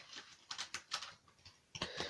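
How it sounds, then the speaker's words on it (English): Starseed Oracle cards shuffled by hand, a run of soft, quick papery taps and flicks at an uneven rhythm, close and quiet with no one talking. "Now, I'm just going to shuffle the deck"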